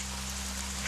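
Rain falls steadily in a Madagascar forest, a continuous close hiss of drops on leaves and ground with a low steady rumble beneath, no voices.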